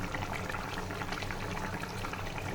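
Katla fish curry boiling in a pot, a steady dense bubbling simmer, close and even throughout with no voices.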